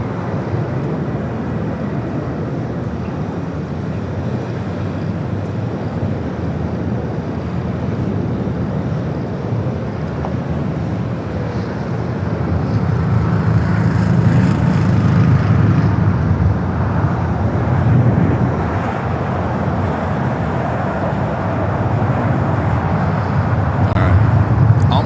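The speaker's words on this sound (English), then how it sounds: "Flight 2479 heading to Lima, Peru in the 767 at 300ER, rolling down to 24 left." A Boeing 767-300ER airliner rolls down runway 24 left at LAX, its engine roar a broad, steady rumble that swells louder partway through and holds strong to the end.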